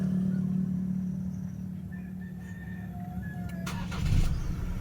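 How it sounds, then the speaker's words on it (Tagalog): A Ford Ranger Raptor engine starts near the end: a short cranking burst that catches, over a steady low hum inside the cab, with faint electronic chimes beforehand. "i-start na tayo ng engine."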